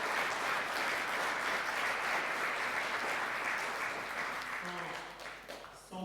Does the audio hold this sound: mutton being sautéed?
no